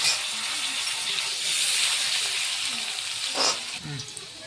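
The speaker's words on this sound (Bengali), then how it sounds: "আলুটা একটু ভাজা হচ্ছে" Sliced potatoes coated with turmeric and salt frying in a little oil in a home kitchen, a steady close hiss and sizzle throughout with a brief louder crackle near the end.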